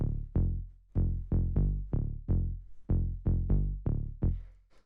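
A minimal house synth bass repeats short, deep, droning notes in a hypnotic rhythm, about a dozen punchy plucks each decaying quickly, loud and dry with nothing else playing.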